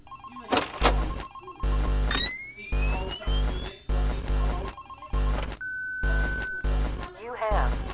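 Telephone ringing in the horror video game FNAC (Five Nights at Candy's), night 3, repeating in regular bursts with a short electronic melody across the clip, loud and close over steady game background hum.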